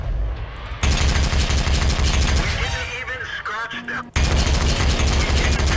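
Modded tank guns firing in World of Tanks, a loud, continuous barrage of close rapid booms with a brief lull and mechanical whirring midway before the heavy firing resumes.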